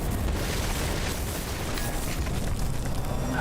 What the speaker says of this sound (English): I always just go back to the good old rocket launcher.